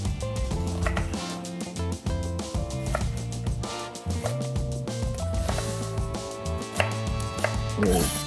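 Onion, peppers and yellow pepper sliced for halloumi kebab skewers, a quick, even run of knife chops on a board, heard up close and steady, with background music playing throughout.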